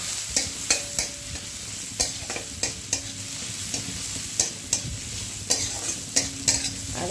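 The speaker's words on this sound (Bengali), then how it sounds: "এবারে দিয়ে এটাকে ভালো করে নেড়ে চেড়ে নেব, ভেজে নেব, সুন্দর করে" Pumpkin curry with a fish head and onion being fried and stirred in oil in a pan: a steady close sizzle broken by regular sharp spatula scrapes and knocks against the pan, roughly one or two each second, with no talking.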